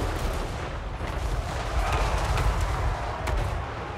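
Massed troops fire volleys in Total War Warhammer 3, a dense, continuous crackle of gunshots and booming reports rolling on without pause at moderate loudness.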